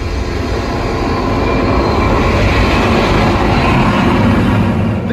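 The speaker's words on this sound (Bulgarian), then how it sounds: "до тътен на реактивен двигател." Deep, continuous jet engine roar played as a cinema sound effect, loud and sustained with a rumbling low end and steady broadband hiss, no pauses or voices.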